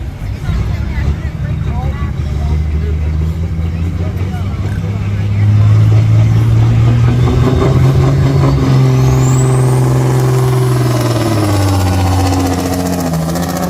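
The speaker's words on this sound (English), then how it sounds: "Unbelievable, nothing like a Caterpillar engine." Caterpillar-powered pulling truck at a truck pull event at Buck Motorsport Park, its engine droning loudly and steadily, then revving up with rising pitch midway before easing off, with announcer talk over it.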